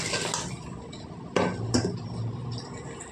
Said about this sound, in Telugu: ఇందులోనే క్యాలీఫ్లవర్ కూడా వేసేసుకుందామండి